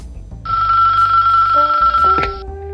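An old telephone bell rings loudly and close, a steady sustained ring that cuts off abruptly, over low background hum, with no talk.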